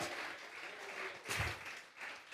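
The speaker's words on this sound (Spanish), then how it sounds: "Dele fuerte esas palmas al Dios de la gloria" Congregation in a church service clapping together, a steady, moderately distant wash of applause that holds evenly with brief swells.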